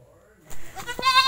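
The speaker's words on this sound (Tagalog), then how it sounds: "So ito na nga guys yung time na nagdala na kami ng kambing. So nagtesting lang muna kami ng 2 native goats." A native goat on a farm lets out a short, close bleat after a moment of quiet, with a wavering, nasal cry rising at the end.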